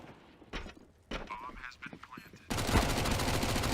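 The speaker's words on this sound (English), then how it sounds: "Just rattling shots away." Rapid automatic gunfire from a CS:GO match, a dense sustained burst that erupts loudly in the latter part after quieter scattered game sounds and brief voice-like noises.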